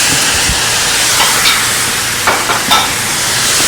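Ground meat sizzles and fries in a pan for lasagna while being stirred and broken up, a steady close hiss with a few soft scraping bursts, no talking.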